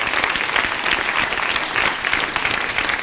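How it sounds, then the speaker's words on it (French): A conference audience breaks into loud, dense applause, many hands clapping continuously and close-up with no pauses. "Est-ce qu'on peut l'applaudir pour ça?"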